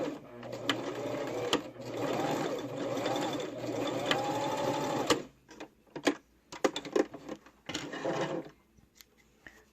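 A sewing machine stitches a handmade wallet pouch in a steady, quiet, close whir for about five seconds, followed by scattered clicks and rustles of the fabric being handled.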